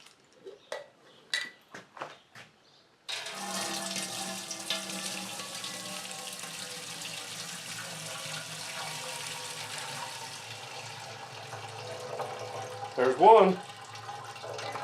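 Gin liquid pours steadily into a still pot as a continuous splashing rush lasting several seconds, preceded by a few brief clicks and a short spoken remark, with a sharper knock near the end.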